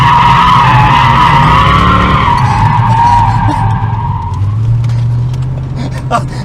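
Chevrolet Corvette C4 with a 5.7L V8 revving loudly up through first gear, the pitch climbing steadily before a drop at the shift into second, then pulling hard again, close and continuous.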